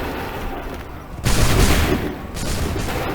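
Muskets fire in a single loud volley from a line of soldiers in the Assassin's Creed 3 video game, a sharp massed crack followed by a rumbling tail over steady battle ambience.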